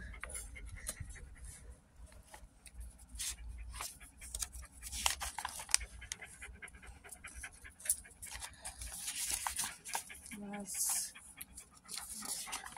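A puppy panting in quick, soft breaths with occasional faint whimpers, close by and quiet, with brief rustling and handling noises.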